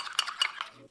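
A spoon scrapes and clinks in a small bowl of butter mixture being stirred for toasting buns, in a few quick, quiet strokes.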